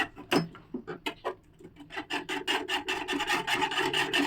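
Milk mixture being stirred by hand for sweet curd (mishti doi), a utensil scraping and rasping against the pot in quick repeated strokes that grow steadier and denser, close and fairly loud with no talking.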